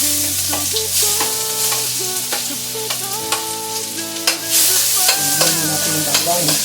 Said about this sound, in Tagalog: igisa na natin yung ating langka